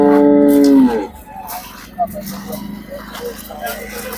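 Cow at a cattle market lowing once, loud and close, in a long moo that fades after a second, followed by market bustle and nearby people talking.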